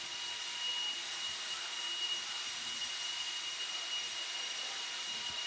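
A blower runs steadily at an RC raceway during racing, a constant mid-distance hiss and whoosh that holds level throughout with no break.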